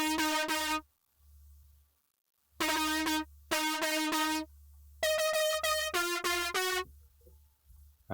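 A bright synth lead for a big room psytrance build-up, with its low harmony stripped out, plays clipped chord stabs in quick rhythmic groups separated by short gaps, loud and alone.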